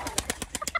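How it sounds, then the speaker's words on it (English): Baby white old frill pigeons in an aviary give a rapid series of about seven soft, close cooing and peeping calls in quick rhythm. "Let's go in the aviary and see the baby pigeons."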